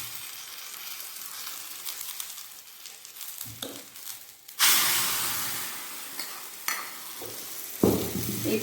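Mustard seeds fry in a little oil in a kadai, hissing and crackling steadily close by, with sudden louder sizzling surges partway through and again near the end.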